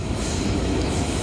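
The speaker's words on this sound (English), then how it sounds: "Noisy train." A noisy train passes close by, a loud continuous rumble and roar of rail wheels filling the whole short moment with no talk.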